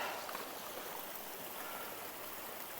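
A river stream in Shenandoah National Park flows steadily with a continuous close, broadband rush of moving water, even and unbroken throughout without voices.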